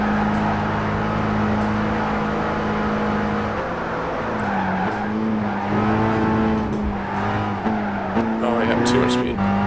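A V8 race car engine in Gran Turismo 5 at the Nürburgring revs hard and loud throughout, climbing in pitch with audible gear shifts and some tire noise, while a voice talks at times.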